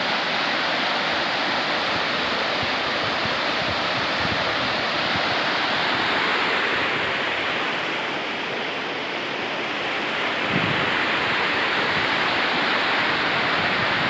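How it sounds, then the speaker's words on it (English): Loud, steady rush of a high, fast-running river seen while camping and fishing, its broadband roar filling the whole stretch with no break. "Man, that water's raging and high."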